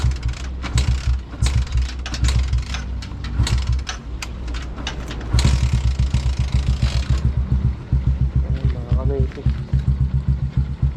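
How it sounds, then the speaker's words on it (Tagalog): An engine warming up at idle, a rhythmic close chugging pulse with mechanical rattles, steady throughout while a person talks over it. "painitin muna natin yung kanyang makina"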